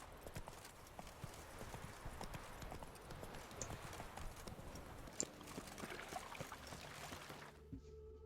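Roach the horse gallops through The Witcher 3 with a steady, rapid clip-clop of hooves on ground, fairly close and continuous over ambient game sound, with a brief quieter tail at the end.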